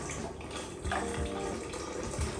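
Cooled homemade strawberry soda base being poured over ice, a soft liquid stream with light splashes and faint clinks, quiet and close, with no talking.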